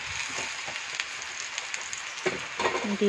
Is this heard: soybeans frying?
yes